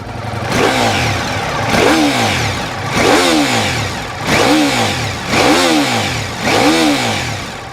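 A Ducati Multistrada V4 engine of over 200 horsepower, loud and close, rises and falls in six repeated revving swells, each building to a rough roar and dropping back with a throaty descending pitch.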